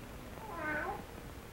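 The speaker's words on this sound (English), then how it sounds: "keep that cat from desecrating my graves" A single drawn-out cat meow in a graveyard setting, faint against a steady background hiss, with no one speaking.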